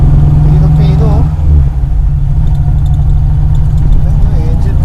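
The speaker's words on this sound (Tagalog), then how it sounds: "Ayun yung engine." A well-maintained Mini Cooper idles close by, its engine giving a steady low rumble that holds evenly throughout, with a voice briefly heard over it.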